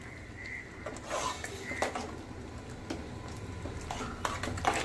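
A spoon scrapes and clinks against a pot while khichuri with sugar and ghee is mixed, giving soft irregular knocks and scrapes at close range over a low background hum, with no talking.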